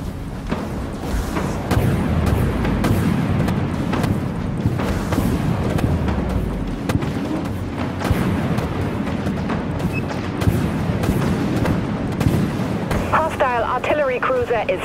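Missiles launch and weapons fire aboard a ship in the Dreadnought video game, a steady barrage of booms and rumbling blasts lasting throughout, with voices speaking over the din.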